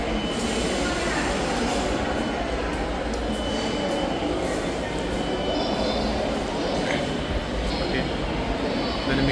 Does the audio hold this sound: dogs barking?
no